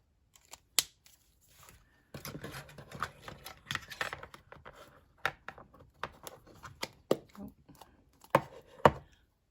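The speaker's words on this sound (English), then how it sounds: "you're going to die cut those out" Paper pieces being die cut from a Stampin' Up die set for a cottage rose fancy fold card, heard as a string of sharp close clicks and crisp handling rustles that come in irregular bursts, with no talking.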